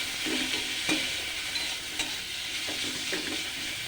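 Ginger garlic paste fries in a pan with a soft, steady sizzle and a few light stirring taps, close but fairly quiet, and no voices are heard.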